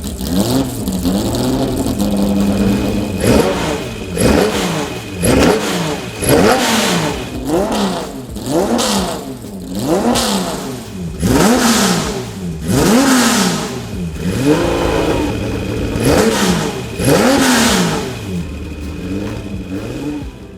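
A turbocharged Procar race car engine revs hard through its exhaust in repeated rising and falling surges across roughly a dozen gear changes, loud and continuous with a steady high whine underneath.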